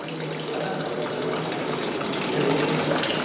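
Jeevamrutham liquid fertilizer is poured into the flowing water of a paddy field, making a steady loud gushing and splashing of liquid throughout, with no break.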